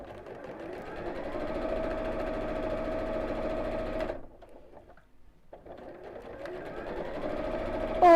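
A sewing machine stitches steadily through fabric lining, its motor humming and needle chattering for several seconds, stopping briefly, then starting up again, with a voice talking over it.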